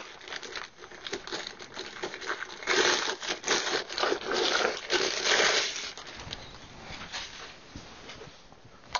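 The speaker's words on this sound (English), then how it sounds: "Enclosed in a plastic bag." A plastic bag holding a DC charging enhancer is crinkled and pulled open close up, with bursts of crackling and rustling that swell in the middle and then thin out.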